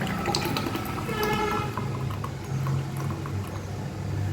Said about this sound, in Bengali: এই গ্লাসে ঢালছি।